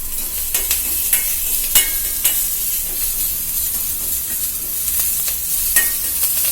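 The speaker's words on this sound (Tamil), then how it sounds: "இப்போ 2 காஞ்ச மிளகாயும் ஒடிச்சு போட்டு வறுத்துக்கலாம்." Broken dried red chilies frying in a pan give a steady close sizzle and hiss, with a few faint stirring clicks now and then and no talk.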